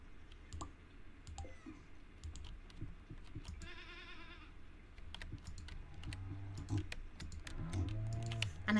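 Goats in the Stardew Valley farm game bleating in a wavering, wobbly cry around the middle and again near the end, faint over steady keyboard typing and clicking.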